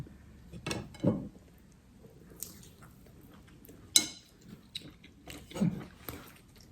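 Someone eats a spicy Isan sausage and glass noodle salad, with several distinct bites and crunchy, moist chewing sounds close to the mic, spaced out between quiet pauses.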